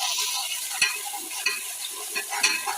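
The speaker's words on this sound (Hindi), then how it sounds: "तो मैंने अदरक लहसुन का पेस्ट ब्राउन कर लिया" Ginger garlic paste frying with onions in a pan for moong masoor dal, a steady close sizzle with a few sharp stirring scrapes and pops spaced through it, no voices.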